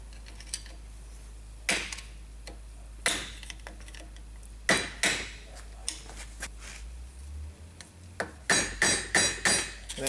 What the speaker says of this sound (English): you put a screwdriver in this groove right here, and if you're lucky, you can tap it out